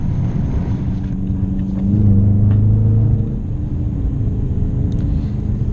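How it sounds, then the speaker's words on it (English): Engine note of a 2017 Dodge Challenger R/T with a ZF 8-speed transmission, a steady low rumble that swells into a louder droning tone partway through, as if pulling through a gear change, then settles back; no talking. "And those gear shifts, oh my God, just listen to that."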